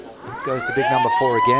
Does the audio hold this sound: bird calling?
no